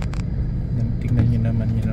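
Congested city traffic in General Santos: a steady low rumble of idling and creeping vehicles close by, with a brief engine drone rising near the end.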